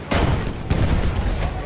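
Bomb blasts in Battlefield 1 on the Suez Canal map, a dense barrage of loud booming detonations with gunfire rumbling continuously through the battle.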